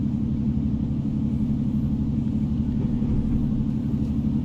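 A Class 153 diesel railcar, a single-car unit introduced in 1991, runs steadily at speed in Train Simulator, its engine and wheels giving a constant, loud low rumble with no change in pitch and no voices.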